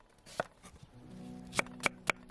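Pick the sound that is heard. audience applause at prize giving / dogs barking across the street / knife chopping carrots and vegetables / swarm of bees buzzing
knife chopping carrots and vegetables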